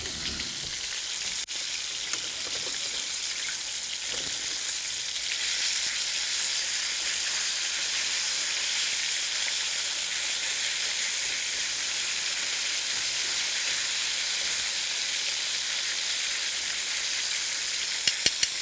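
Chicken marsala cooks in a pan with a steady, close, hissing sizzle that carries on evenly throughout, with a few faint clicks and knocks in between.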